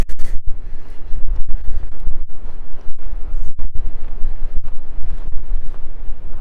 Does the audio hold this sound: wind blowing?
yes